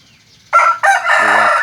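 A Thai fighting rooster crows close and loud: a short two-part burst followed by a drawn-out, warbling cock-a-doodle-doo, alone without talk.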